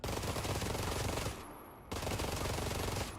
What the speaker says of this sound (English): Is the fire rate of the SMG when it's semi-automatic tied to how fast you can click?